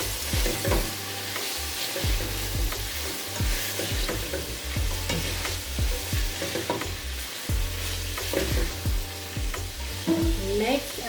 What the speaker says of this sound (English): So next we're gonna add the codfish, which I already pre-boiled.